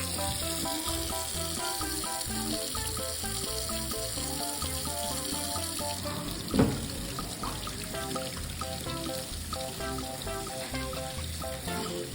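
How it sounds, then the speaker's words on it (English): A tap runs steadily into a sink as hands are washed, a continuous close hiss of flowing water with one brief clunk partway through. "let's go wash your hands"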